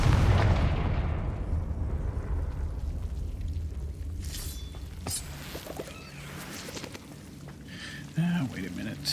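A Confringo blasting spell explosion in the Hogwarts Legacy video game, a heavy rumbling boom that fades away slowly, followed by a voice speaking quietly with a small thump near the end.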